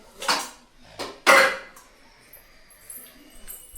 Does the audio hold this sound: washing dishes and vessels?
yes